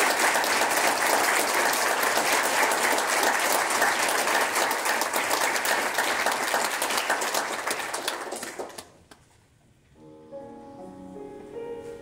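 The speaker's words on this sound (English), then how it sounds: "another huge round of applause for him." Loud, dense audience applause after a concert performance by a singer with piano accompaniment, steady for about nine seconds before fading out, followed by a soft piano starting up.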